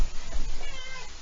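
A house cat meows once, close and fairly loud, a short drawn-out call on its own with no talk over it.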